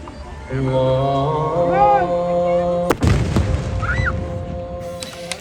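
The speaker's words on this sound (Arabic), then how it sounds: "اتفاجئت بجد إن صوت المدفع أعلى بكتير جدا مما كنت أتخيل" A steady droning tone with a voice over it is cut by one loud, sharp iftar cannon boom at Dubai Festival City, followed by a brief rumbling tail and crowd noise.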